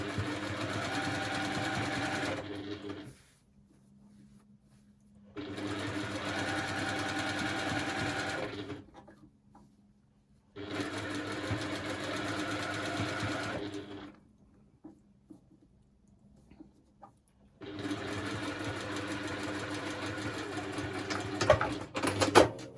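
A sewing machine stitches down the seam allowance of a fabric ruffle in four steady bursts of running, separated by short quiet pauses, close and loud with no talking.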